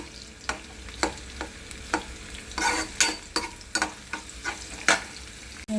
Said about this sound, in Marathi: आपला कांदा भाजून होत आहे